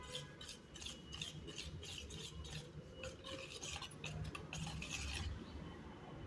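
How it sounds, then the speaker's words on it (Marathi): Bajra flour batter is stirred briskly in a bowl, producing a rapid, rhythmic scraping and rubbing that stays fairly quiet and close, with no talking. "मिक्स करून घेऊयात बॅटर."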